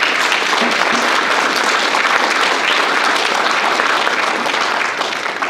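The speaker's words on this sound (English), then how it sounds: "Let's give a round of applause to all these folks here." A brunch audience at a 2022 Black History Month event gives a loud, sustained round of applause, dense and even clapping from many people that holds steady before easing slightly at the end.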